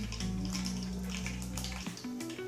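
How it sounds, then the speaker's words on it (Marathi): Cumin and mustard seeds hit hot oil in a pan for a dhaba-style dal tadka, giving a dense, steady sizzle and crackle with a low hum underneath, close and fairly loud throughout. "तेल गरम झालेलं आहे त्याच्यामध्ये जिरं मोहरी टाकू"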